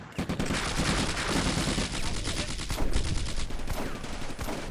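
Rapid gunfire in the World War II desert wargame Combat Mission: Afrika Korps, with dense overlapping rifle and machine-gun bursts crackling continuously, loud and sustained with no voices over it.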